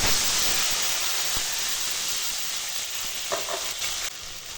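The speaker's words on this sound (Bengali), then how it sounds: "এই কালো জিরে আর কাঁচা লঙ্কার সঙ্গে এখন দিয়ে দেব জল" A loud hissing sizzle as water hits a hot pan of frying potatoes with black cumin and green chilies, gradually settling into a softer bubbling fry with occasional stirring clatter.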